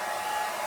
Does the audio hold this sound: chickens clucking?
no